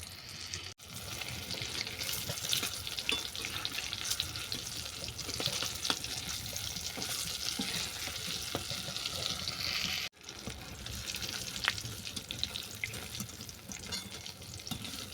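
Tomato skin pakoras fry in hot oil, giving a soft, continuous sizzle and bubbling at low level with occasional stirring clinks, broken by a brief cut partway through.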